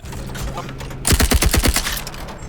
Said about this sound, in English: Just need a sound to accentuate the jam right there. Tink. Okay, great. But Added a bit more machine gun sound.